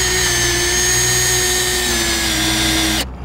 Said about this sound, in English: It's drilling a broomstick into my Thule.